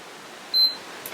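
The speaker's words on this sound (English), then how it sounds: "you need to listen for 2 beeps, not that one, the second beep" A single short, high-pitched electronic beep from a PS4 console sounds once in a quiet room.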